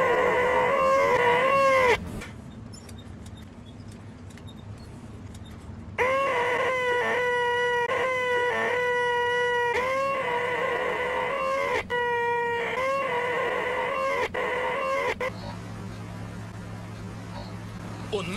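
A rooster crows repeatedly over a loud yodeling vocal track, with the long, wavering crows mixed in at full volume and the song running continuously throughout.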